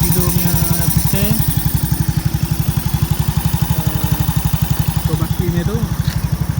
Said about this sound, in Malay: sekarang aku saja nak test enjin aku ni. Standard pekak je, tak buat apa-apa lagi. Cuma aku tukar ni Apido punya filter